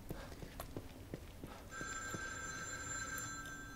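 An old-style telephone bell rings in The Evil Within 2, starting partway through as a steady, bright metallic trill after a stretch of sparse thuds and footsteps.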